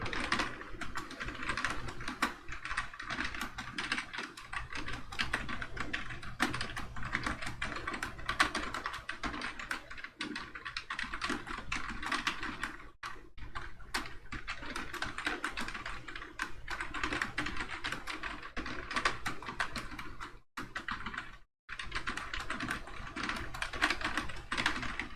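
Steady, rapid typing on a computer keyboard during a JavaScript coding session, a dense run of close key clicks with only a couple of brief pauses and no talking.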